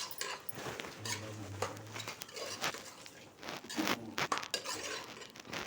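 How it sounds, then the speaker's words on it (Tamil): Chicken biryani being stirred in a metal pot and then covered, with scattered scraping, clinks and lid knocks at an uneven pace, fairly quiet and close, without talking. "இதை கொஞ்சம் அப்படியே கிளறிட்டு மூடி வச்சுருவோம்"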